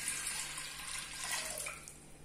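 Water pours steadily into a clay pot while cooking greens, a soft, close, continuous splashing trickle with no talking over it.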